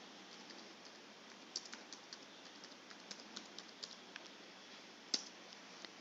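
A computer keyboard being typed on, a quiet run of light, quick key clicks at an uneven pace with one slightly sharper tap, close and faint against a soft background hiss.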